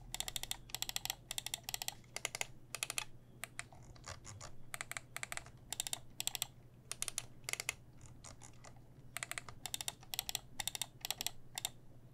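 Computer gaming mouse with Huano pink switches, clicked repeatedly in quick bursts of crisp, close, sharp clicks, separated by short pauses over a quiet background.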